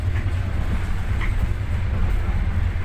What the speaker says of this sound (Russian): Я еду в Геленджик на поезде